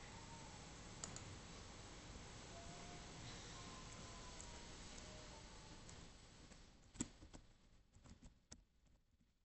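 Computer keyboard typing while a name is entered in a graphic design program, a steady patter of soft clicks running under faint background noise, with a few sharper isolated key taps near the end.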